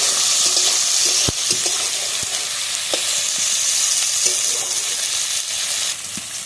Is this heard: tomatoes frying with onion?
yes